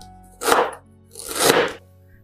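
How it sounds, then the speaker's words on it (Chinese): Fresh ginger being sliced with a knife on a board: two separate, fairly loud cutting strokes about a second apart, with quiet between them. "准备一块生姜，给它切成姜片"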